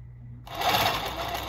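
A Consew 146RB-1A-1WS zig-zag sewing machine starts up partway through and stitches in a fast, steady mechanical whir, close and clear, with no talk.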